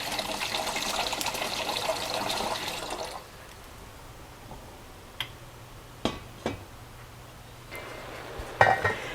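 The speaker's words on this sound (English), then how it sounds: "I'm going to fill my pot with water and start my noodles" Tap water runs hard into a cooking pot for about three seconds, then stops, followed by quieter kitchen handling with a few sharp clanks of the pot near the end.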